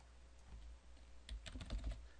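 Quiet, close keystrokes on a computer keyboard as a password is entered, a few scattered taps followed by a quicker cluster of clicks near the end, with no speech.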